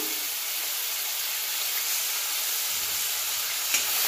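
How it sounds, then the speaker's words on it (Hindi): Onion and tomato frying in hot oil give a steady, close sizzle that runs evenly throughout, with no voices. "एबे सही तेल रे पियाज दे दबा, बिलाती दे दबा"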